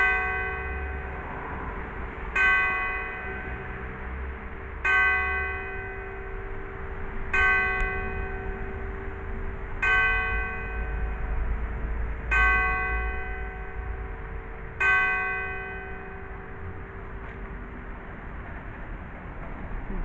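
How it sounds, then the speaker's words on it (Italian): Church bells of the convent of Santa Maria a Ripa in Empoli ring out in evenly spaced strikes about every two and a half seconds, loud and clear with long humming resonance over faint outdoor ambience. "è vero che ha suonato un minuto prima queste campane"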